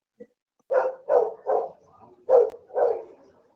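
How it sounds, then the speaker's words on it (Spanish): A small dog barks over an online meeting microphone, five or six close, sharp barks in quick succession with a brief pause midway. "Son muy fuertes los ladridos."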